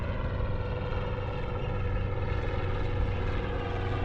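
A helicopter flies overhead at Scamp Beach on the Bolivar Peninsula, Texas, its steady, droning rotor and engine roar holding constant throughout, loud and unbroken, with no voices.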